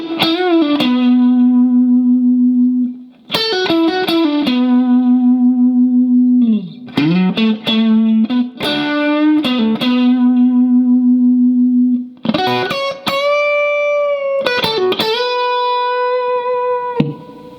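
Distorted electric guitar with effects plays the second line of a song's second solo: sustained, singing lead notes with bends and vibrato in several phrases separated by short gaps, loud and alone with no talking.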